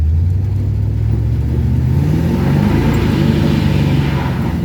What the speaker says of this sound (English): Spun the tires in some water.